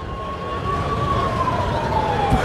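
Emergency vehicle siren from an ambulance arriving at Karan Gate market in Karnal during a mock drill, a single steady wailing tone that slowly falls in pitch, loud and continuous over crowd and traffic noise.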